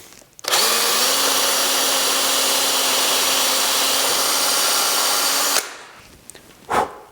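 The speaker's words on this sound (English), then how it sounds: "2 screw holes drilled." A power drill boring screw holes, a steady loud whine held for about five seconds after a quick start, then stopping, followed by a brief second burst.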